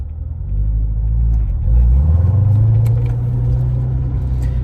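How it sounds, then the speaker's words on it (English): A 2017 Corvette Grand Sport's V8 roars in sport mode while driving, a loud deep rumble that swells and climbs in pitch partway through, steady and close. "As you can hear, the V8 is roaring."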